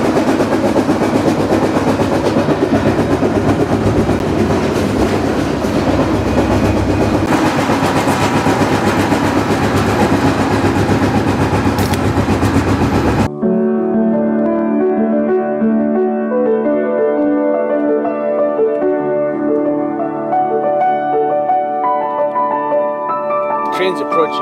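A freight train rumbles along the tracks approaching Meridian, Mississippi, with a heavy, steady roar, then gives way to music with a voice speaking over it.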